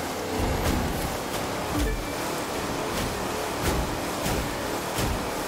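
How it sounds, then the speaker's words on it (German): Ocean waves in the racing game The Crew 2, a steady wash of surf and water noise with periodic swells, moderately loud and continuous, with no talking. "Ach, jetzt gibt's die Wellen."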